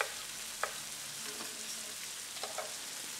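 Pork, ginger and mange tout stir-fry in a hot pan with a steady, soft sizzle, with faint clicks of a utensil moving the food and no voices.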